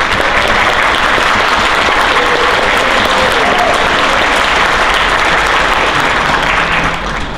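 Steady, dense audience applause fills the room at a choral festival, loud and continuous throughout with no pauses.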